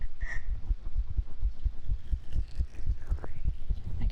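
A heartbeat, picked up close on a sensitive ASMR microphone, thumps as a steady, low, muffled pulse of regular throbs. Faint gurgles and soft whistly tones from the stomach drift over it.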